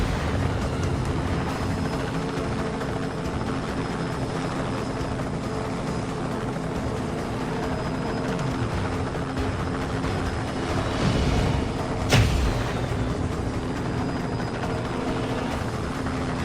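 Helicopter flying in the video game Just Cause 2, a steady droning rotor and engine hum holding level throughout, with a brief louder swell near the end.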